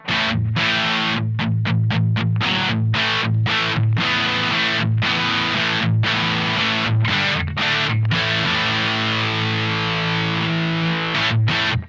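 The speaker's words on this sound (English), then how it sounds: "Go to the overdrive channel, and this is what we get." Overdriven electric guitar through a Supro Drive amp plays a series of chords with distorted, saturated tone, each strum ringing briefly before short gaps, loud and up close.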